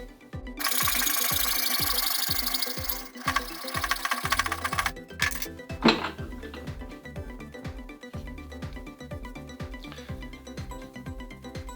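A metal tube for a petrol burner is cut with steady back-and-forth strokes, a loud continuous rasping passage early on, then shorter rhythmic scraping strokes that keep repeating, close and alone.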